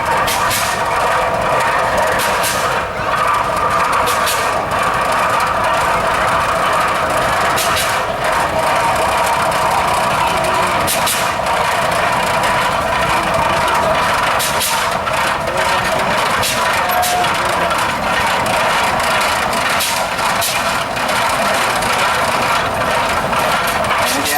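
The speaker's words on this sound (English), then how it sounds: "These tractors have to chug up the hill." Antique Hart-Parr tractor engines at an antique power show chug steadily and loudly, a continuous mechanical drone punctuated by occasional sharp pops, with no voices.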